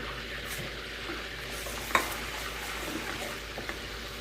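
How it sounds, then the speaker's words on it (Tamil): Melting homemade butter with salt being stirred in a pot while making ghee, a soft steady sizzle with faint scraping of the spoon and one brief clink near the middle, no voices. "உப்பு கரையிற அளவுக்கு நம்ம கிளறி கொடுத்துட்ருக்கலாம்"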